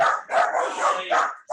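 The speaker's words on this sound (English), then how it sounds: "you can hit mute if you want while the dogs are barking" Dogs bark loudly and close in rapid yapping bursts, several barks overlapping in a short burst.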